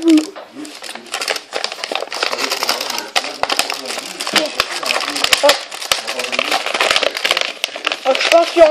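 Crinkling, crackling packaging of a fidget cube is torn and handled up close, with irregular rustles and sharp snaps continuing throughout.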